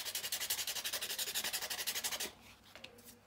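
A tortillon blending stump scraped to clean off pastel, giving a steady rhythmic rasping of about twenty quick strokes up close, then a pause and a couple of faint scuffs.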